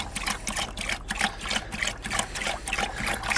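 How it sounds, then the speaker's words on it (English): Thompson's water seal pours from a container onto rough-sawn wood on a heavy DIY trailer, a soft irregular trickling and glugging with rhythmic pulses, close and fairly quiet, without talking. "what are you pouring in there? Thompson's water seal."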